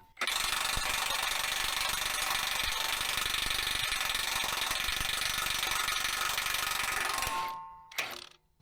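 A Torqup 3,000 foot-pound torque tool works on a Dresser TD25G bulldozer, giving a loud, steady mechanical whirring and ratcheting that runs for about seven seconds before cutting off, with a brief clank after.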